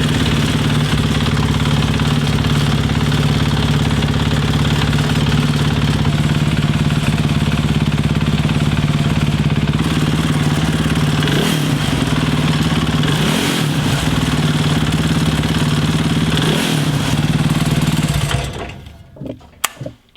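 A carbureted motorcycle engine idles steadily and loudly close by, with a few brief revs, then shuts off near the end, leaving sudden quiet.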